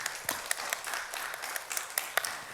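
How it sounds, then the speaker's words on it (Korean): Scattered hand clapping from a church congregation, fairly faint and uneven, with sharp individual claps standing out over a steady patter. "그런 마음을 가지고 우리 하나님께 영광의 박수를 드리겠습니다."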